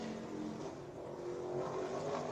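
A race car at Five Flags Speedway in Pensacola accelerates onto the track at the green flag, a steady loud engine drone with rising pitch toward the end, continuous throughout with no talk.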